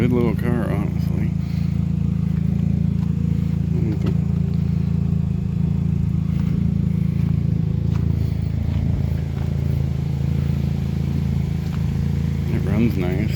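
A 2007 Chevy HHR small station wagon sits with its engine running in a steady low idle rumble, continuous and fairly close, with no talk.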